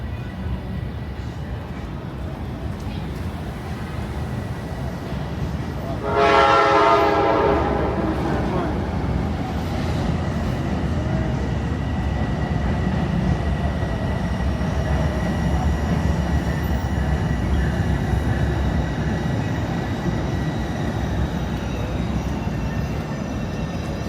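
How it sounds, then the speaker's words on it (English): A southbound Metro-North train pulls into the elevated 125th Street station in Harlem, New York City, a steady rumbling roar with a brief loud horn-like burst near the start, heard over continuous outdoor street noise. "you could actually see the Metro North pulling in right now"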